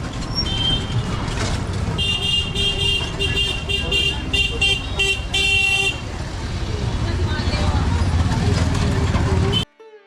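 Busy traffic along the Vrindavan parikrama route with e-rickshaws and motor vehicles, a steady roar broken by repeated short horn toots through the middle, voices talking over it, ending abruptly.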